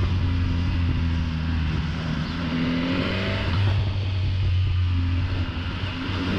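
A BMW S1000R motorcycle idles with a low, steady exhaust rumble and a few brief throttle rises, loud and close, with no talking.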